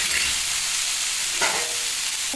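Leftover rice frying in oil with curry leaves and chopped carrot while being stirred, giving a loud, steady, close sizzle with a scraping stir partway through and no speech.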